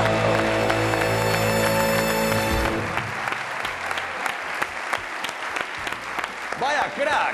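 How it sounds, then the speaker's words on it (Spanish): Applause breaks out for a player after a charades round done while bouncing on a trampoline, a dense burst of clapping over loud sustained music that cuts off, then scattered claps and voices continuing. "¡Un aplauso para Marcos Pérez!"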